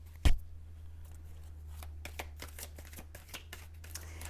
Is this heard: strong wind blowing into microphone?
no